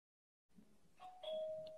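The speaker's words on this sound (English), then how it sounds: "That was my doorbell, by the way." A home doorbell chimes once, a faint sustained electronic ding-dong heard from a distance in an otherwise quiet room.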